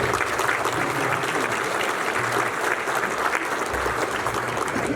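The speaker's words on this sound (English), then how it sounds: "Let's give them a great round of applause." Sustained, thick applause from a luncheon crowd at the NPTC Hall of Fame event in Orlando, honoring sponsor CPC Logistics; loud and even throughout, a continuous roar of many hands without pauses.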